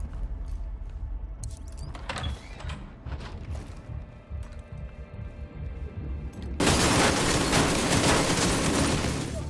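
Heavy machine gun fire crackles in a battle in the shooter game The Division 2, with scattered bursts and thumps that swell into a loud, dense, sustained roar of gunfire near the end.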